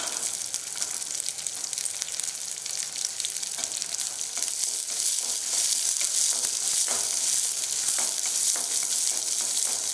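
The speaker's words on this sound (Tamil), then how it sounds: "சின்ன வெங்காயம் புளியும் இதோடைய சேர்த்துருங்க. நல்லா வதங்கும் போது புளி சீக்கிரமாக அரைப்பட்டுரும்." Shallots and tamarind sautéing in a pan for chutney, a loud, steady sizzle of frying with occasional stirring scrapes, continuous throughout with no talk.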